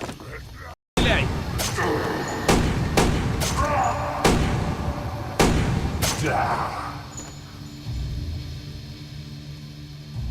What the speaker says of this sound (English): he takes a gun and starts shooting at the creatures